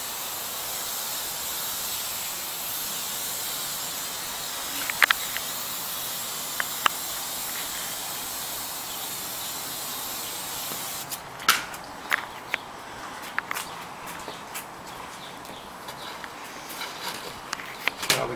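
Garden hose spraying water onto a nursery juniper being prepared for a bonsai pot, a steady close hiss throughout, with a few soft clicks and knocks near the end.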